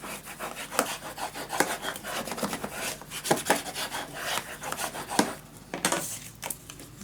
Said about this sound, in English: Place it down on the place you want it and burnish it down.